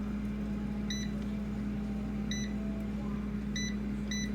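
Air fryer control panel beeping as the temperature is turned up, four short electronic tones at uneven intervals over a steady low appliance hum.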